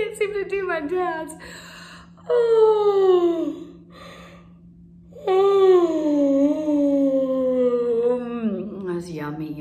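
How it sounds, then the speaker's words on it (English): A person yawns several times in long, drawn-out vocal breaths that slide downward in pitch, with brief pauses between, close and fairly loud. "Those yummy yawns."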